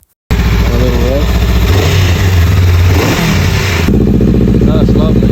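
A Honda Rebel CMX500 motorcycle idles loudly close by, then its exhaust revs up in a quick rise and falls back to a lumpy idle, with a voice talking over it.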